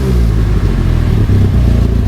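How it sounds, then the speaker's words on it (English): A Honda Civic with an aftermarket exhaust idling rich, a steady loud low rumble with a slightly uneven, lumpy pulse and faint clatter throughout. "let's take a quick listen to this exhaust."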